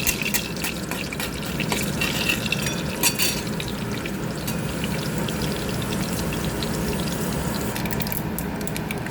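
Ingredients for a cucumber pickle sizzle steadily in a pan, a close, continuous frying hiss with faint popping that holds at an even loudness throughout.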